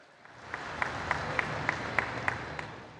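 A crowd at a tribal assembly event in Jhabua, Madhya Pradesh, with a political gathering audience clapping in sustained applause, a dense steady wash of hands with a few sharper claps standing out, fairly distant.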